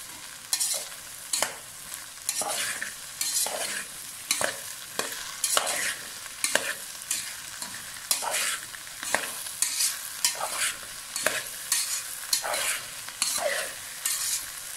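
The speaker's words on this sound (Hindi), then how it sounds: "हम प्याज के साथ भिंडी को फ्राई करेंगे" Okra frying with onion in a pan, stirred in quick repeated scrapes at a steady rhythm over a continuous sizzle, close and fairly loud, with no talking.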